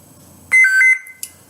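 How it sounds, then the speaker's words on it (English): A single sharp electronic beep from a lightsaber's sound board, made by pressing and holding a button to pick a blade color, sounds for about half a second in an otherwise quiet setting, followed by a tiny click. "you press and hold it until you hear a beep."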